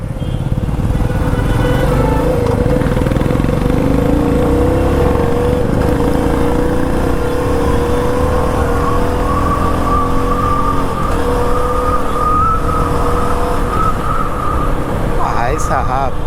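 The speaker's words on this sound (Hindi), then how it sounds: "এটা দে ফুট ফাট আওয়াজ। আমি পেছন থেকে শুনছি এক্সস্টটা।" A Meteor 350 motorcycle engine runs loud and close throughout on a night ride, heard from the rider's position, with a steady rumbling drone and rough exhaust crackle and popping as it rides along.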